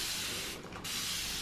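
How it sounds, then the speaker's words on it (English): A handheld spray bottle spritzing water over a gouache palette, two close bursts of hissing mist separated by a brief pause. "Do a quick spray."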